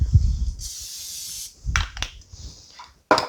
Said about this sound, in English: So we'll give this a little more spray.